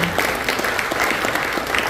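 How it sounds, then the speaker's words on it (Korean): Warm audience applause at a church welcome dinner and worship service, dense and close clapping throughout with a few voices under it. "다시 한번 박수"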